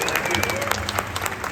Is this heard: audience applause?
yes